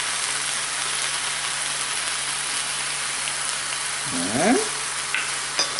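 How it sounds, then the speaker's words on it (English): Four eggs fry in a pan with jalapenos and a splash of juice, giving a steady, loud crackling sizzle; a voice briefly speaks over it near the end. "Then I'm going to crack my 4 eggs."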